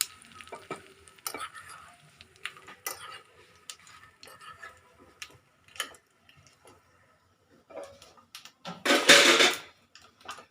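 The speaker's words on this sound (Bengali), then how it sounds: "ফোড়নটা ভেজে নিচ্ছি" Whole spices fry for tempering in a pan while aloo dum is being cooked: scattered soft sizzles, ticks and stirring scrapes, ending in a loud, brief hiss as the tempering hits.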